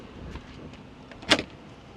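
Baggage door of a Cessna 310R twin-engine aircraft shutting with a single sharp latching clack, preceded by faint handling noises at close range, quiet otherwise.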